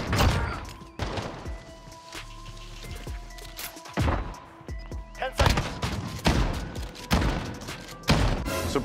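Bursts of Call of Duty: Modern Warfare gunfire, loud sharp shots in quick clusters with pauses between, some rapid volleys and heavier booms.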